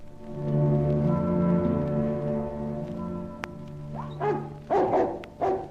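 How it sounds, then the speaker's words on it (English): A dog barks a few times, loud and close, after a low droning, howl-like stretch, with the sharp barks bunched near the end. "Good dog, Sherry, good dog."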